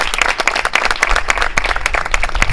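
Audience applause at an announcement event, a steady dense wash of many hands clapping close and loud throughout, with no talk over it.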